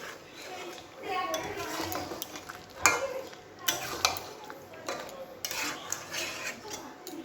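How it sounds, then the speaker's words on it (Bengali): Chicken being stirred and sautéed on low heat in a pot, with scraping spoon strokes and clinks over a soft steady sizzle, moderately close and fairly quiet. "চিকেনটা কমিয়ে কষতে দিয়েছি"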